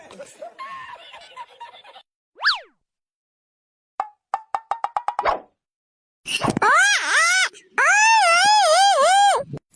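A child cries and wails in loud, rising and falling sobbing bursts, broken by silences, short choppy sounds and a little speech.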